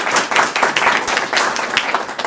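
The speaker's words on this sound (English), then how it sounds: "So I want to give a round of applause to athletes for showing us strength and courage." An audience claps for athletes at a community talent-sharing event, brisk, close applause with distinct individual claps running throughout, loud and without speech.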